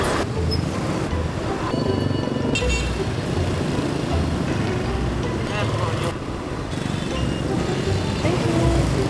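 Busy street traffic in Vietnam, with a dense, loud roar of cars and motorbikes, scattered horn toots rising above it, and people talking nearby throughout.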